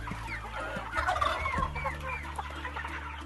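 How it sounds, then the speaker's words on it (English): Chickens on a commercial chicken farm cluck and chatter in a dense crowd over a constant low mechanical hum, with an occasional louder squawk rising out of the flock. "picture a commercial chicken or duck farm"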